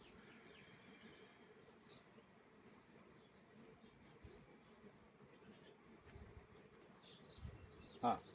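Bees buzzing in a soft, continuous drone, some passing close, with faint bird chirps and light background rustle.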